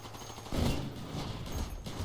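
A single sharp rifle shot from a Black Ops game, an L96A1 sniper fired without scoping, cracks out loudly over a dense bed of ongoing game noise and distant gunfire.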